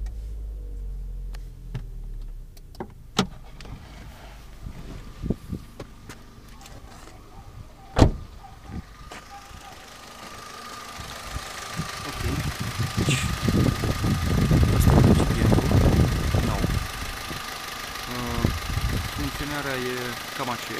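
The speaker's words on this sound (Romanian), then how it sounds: "Înainte am să pornesc motorul să-l vedem în funcțiune." An Opel Corsa C with the Z12XE 1.2-litre petrol engine, heard through clicks and handling noises before the engine starts and settles into a steady, fairly close idle, with a person talking over it.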